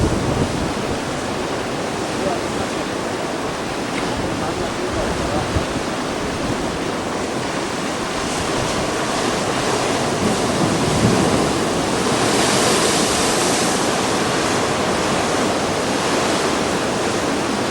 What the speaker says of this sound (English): the waves come crashing in and goes into that cave and forces the water up through this hole